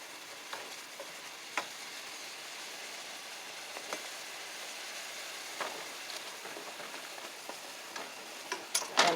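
Smoked sausage simmers and cooks down in tomato gravy in a pot, a soft steady sizzle and bubbling with scattered small pops and ticks, faint and close, no voices.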